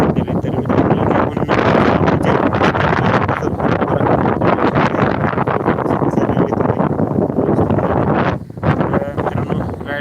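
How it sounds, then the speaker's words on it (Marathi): Strong wind buffets the microphone in an open cauliflower field irrigated by drip lines, a loud, continuous roaring rumble with gusty surges and rustling, briefly dipping near the end. "वारं इतकं सुटलंय बघा भरपूर वारं सुटले"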